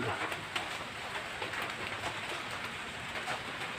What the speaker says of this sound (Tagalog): Tuloy-tuloy ang ulan.